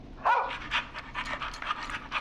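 A dog pants rapidly and steadily in the horror video game Scaring Sam, close and clear with no other sound.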